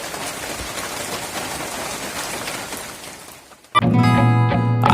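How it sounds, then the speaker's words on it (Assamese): Steady rain falls outdoors in Dhemaji, a dense even patter that fades before music abruptly takes over for the last second. "এতিয়া আপোনালোকে দেখিছে বৰষুণ দি আছে"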